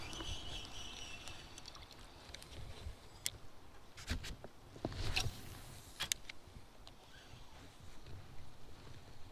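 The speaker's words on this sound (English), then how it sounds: "I'm getting out with my new kayak" A kayak moving on water on a winter fishing outing, quiet splashes and paddle strokes with faint wind and a few soft knocks against the hull, low and fairly distant.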